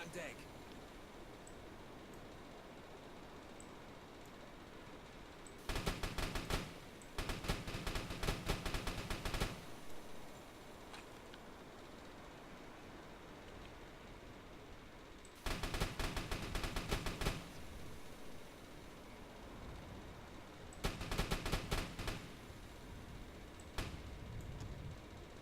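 A U-boat deck gun in a submarine video game fires at lifeboats in three separate rapid bursts of loud gunfire, with quiet ambient game sound between the volleys.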